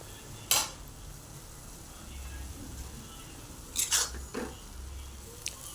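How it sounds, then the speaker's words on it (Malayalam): Banana stem side dish being stirred in a pan, with a few soft scraping clicks of a utensil against the pan over a quiet low hum. "ഇടയ്ക്കിടയ്ക്ക് അടിയിൽ പിടിക്കാണ്ട് ഇളക്കി കൊടുക്കുക"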